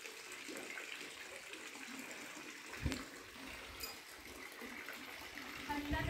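Water flows out from inside the mountain at the Mahabaleshwar temple, a steady soft gushing and splashing heard continuously at moderate distance with faint voices and a couple of brief knocks.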